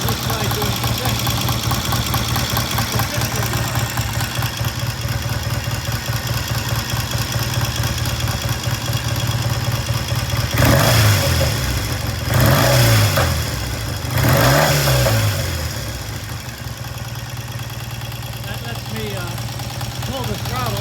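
A vintage British motorcycle engine idles with a steady mid-pitched thrum, then the throttle is blipped three times in quick succession before settling back to idle. Some talk can be heard over it.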